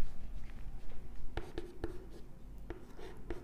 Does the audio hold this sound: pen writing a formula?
yes